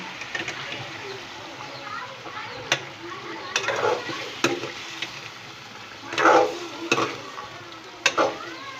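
Chicken kofta curry with onions and potatoes being stirred in a pan, giving soft scraping clatters and a light sizzle, with sharper utensil knocks at intervals; a voice talks over it.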